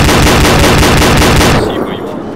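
Dense, loud gunfire from the military shooter ArmA 2 with the ACE mod, a continuous roaring volley for about a second and a half that then drops off into a fading tail.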